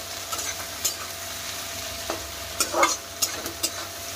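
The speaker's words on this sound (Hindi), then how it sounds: "ब्राउन होने तक इसको अच्छी तरीके से फ्राई कर लेते हैं।" Onions sizzling in a pan while being stirred until brown, a constant close frying hiss with a handful of short scrapes and clatters from the utensil, no voices.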